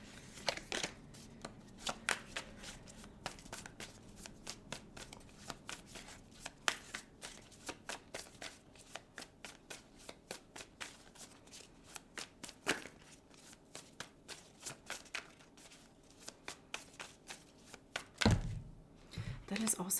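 A deck of tarot cards is shuffled over and over, a dense, rapid run of soft riffling flicks and slaps that continues throughout, close by and fairly quiet.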